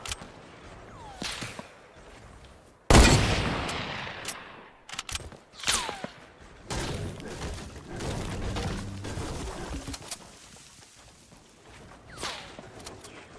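Sniper rifle shots in a Fortnite Battle Royale match: a loud, sharp crack stands out near the start, with further gunfire, whooshes and footsteps scattered through the busy game action.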